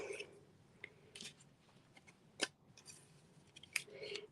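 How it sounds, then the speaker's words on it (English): Small scissors do fussy cutting around stamped paper, giving a few quiet, crisp snips and clicks spaced irregularly, close but faint, with no talking. "I'm probably going to be doing some fussy cutting."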